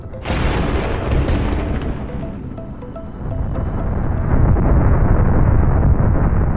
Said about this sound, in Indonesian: Suara letusan yang muncul dari retakan di timur pulau terdengar menggelegar.